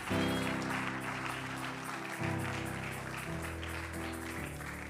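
Church congregation applauding and cheering in praise of the Lord, a dense continuous wash of clapping with voices and sustained instrumental tones beneath, loud and steady throughout.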